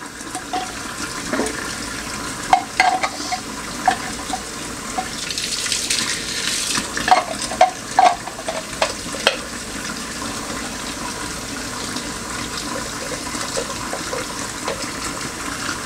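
Juicer parts from a Housnat cold press juicer rinsed under a running faucet, a steady broadband water hiss with intermittent splashes and clatter of parts throughout, no speech.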